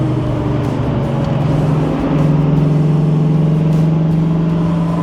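A 1969 Camaro Z/28 with a 302 V8 and 4-speed accelerating on the road, a loud steady engine drone that climbs in pitch and then holds a stronger note, heard from inside with no talk.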